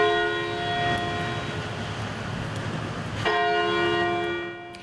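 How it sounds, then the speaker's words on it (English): Church bells ring out across Kentucky in a coordinated statewide peal, sounding as a steady, resonant toll with a renewed strike partway through, moderately distant over faint background ambience. "Churches across the state rang their bells at the same time"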